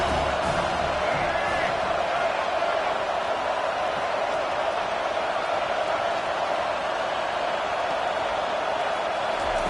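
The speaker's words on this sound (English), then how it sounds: "this crowd coming to life here, trying to help the defense get a stop with the offense pinned back" A football stadium crowd roars steadily throughout, a dense wall of cheering and noise rising to support the defense with the offense pinned back, loud and continuous without pause.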